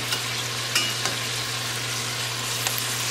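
Lamb chops fry in a small pan with a steady, close sizzle and crackle and occasional sharper pops, continuous with no talking.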